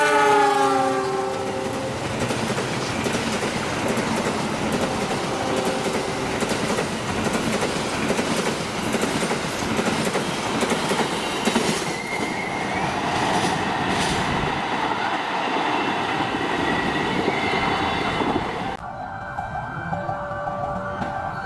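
An Indonesian passenger train rumbles past close by with a long blaring horn at the start, clattering wheels and rushing noise sustained until it fades near the end.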